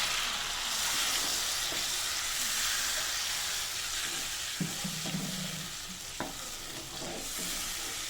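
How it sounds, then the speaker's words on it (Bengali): Fried spice paste for a pabda fish curry sizzles and hisses loudly in a pan after water is added, with a few clinks and scrapes from stirring, close and continuous, with no one talking. "মশলাটা কষানোর পর যখন তেলটা ছেড়ে দিল, আমি এর মধ্যে এবার একটু জল দিয়ে দিচ্ছি।"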